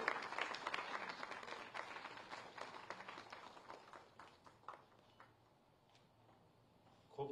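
Audience applause at a government award ceremony for cattle breeders, dense clapping that gradually thins and fades out, followed by near quiet and a small sound at the end.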